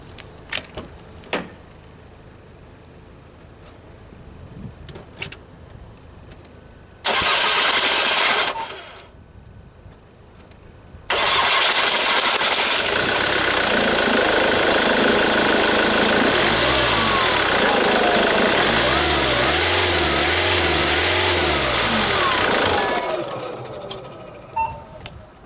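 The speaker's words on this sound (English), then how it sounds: "fire up the engine" A warm Jaguar X-Type diesel engine is cranked after a fuel filter change. It catches briefly, cuts out, then restarts and runs at a steady loud idle with a knocking diesel clatter for about twelve seconds before the noise drops away.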